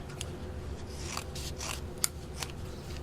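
Scissors snipping paper strips for an Easter egg craft, a series of soft, close crisp cuts spaced irregularly over a quiet room background, one sharper snip standing out.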